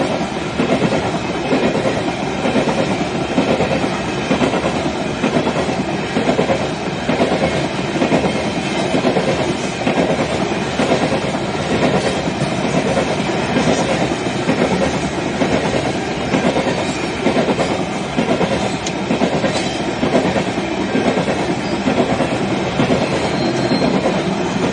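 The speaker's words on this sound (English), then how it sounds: "Definitely a long coal train" A long coal train rolls past for the whole stretch, a loud, steady rumble of wheels with rhythmic clickety-clack and occasional faint squeal, close and unbroken.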